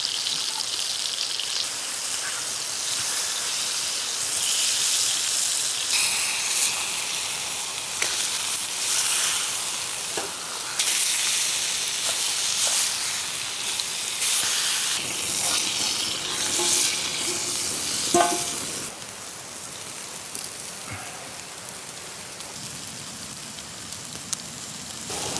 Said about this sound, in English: These Brussels sprouts, they're browning up perfectly.